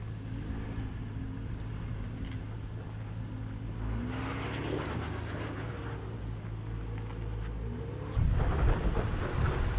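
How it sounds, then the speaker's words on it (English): A lifted Jeep on 38-inch tires climbs off-road on a freezing Utah trail, its engine a steady low drone under buffeting wind noise, swelling to a louder surge near the end. "Then it was Kara's turn in her Jeep with a lift and 38-inch tires."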